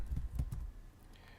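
Fingers typing on a computer keyboard, a few quick muffled key presses in a short burst, then quieter, close by, with no one talking.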